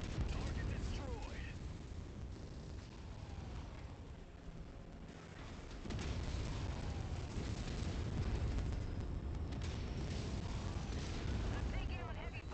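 Heavy booms and crackling blasts roll through a MechWarrior 5: Mercenaries battle as enemy tanks and vehicles are destroyed, dense and continuous under gunfire, with a voice speaking over the fight.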